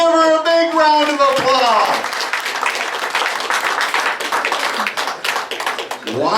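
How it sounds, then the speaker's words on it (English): Audience applause and cheering fill a bar-and-grill comedy show, dense clapping rising after a brief stretch of talk at the start and continuing steadily to the end. "Give her a big round of applause"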